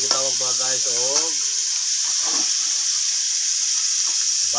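Meat browning in a pan while vegetables are cooked for a budget home meal, with a steady bright sizzle running throughout, near and fairly loud, and a voice talking briefly over it at the start.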